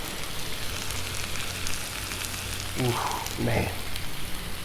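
Spicy Italian sausage sizzling on a Blackstone griddle, a steady close hiss like light rain that runs throughout, while someone speaks briefly partway through.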